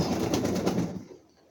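Egyptian Swift pigeons cooing close by, a soft murmuring burble that fades out toward the end.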